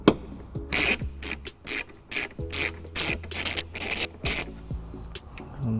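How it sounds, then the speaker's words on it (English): A 10mm socket ratchet backs taillight bolts out of a 2013 Dodge Grand Caravan, in a close series of short, crisp ratcheting bursts with brief pauses between them and no talk. "we're going to take a 10mm socket and remove top bolt here and the bottom bolt there"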